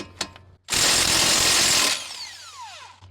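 A pneumatic-style impact wrench (ugga dugga) on a Toyota or Lexus wheel hub, rattling loudly for about a second and a half as it loosens a hub bolt, followed by a fading whine and a few small clicks.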